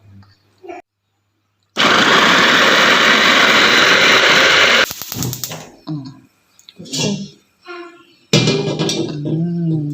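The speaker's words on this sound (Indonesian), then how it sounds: "Ini udah diiris-iris dan mau teteh blender sekarang ya." A blender loudly grinds sliced shallots, garlic and red chilies in a steady roar for about three seconds, then stops, and someone talks afterward.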